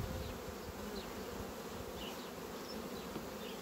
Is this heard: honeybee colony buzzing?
yes